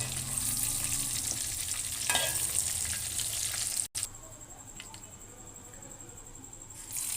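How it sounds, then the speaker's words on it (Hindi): Small pieces of beef frying in oil in a pan: a steady close sizzle with occasional stirring scrapes, quieter after a brief cut midway, and no talking. "ये आपने थोड़ा थोड़ा सा करके फ्राई करना है, ज़्यादा एकदम से नहीं डालना"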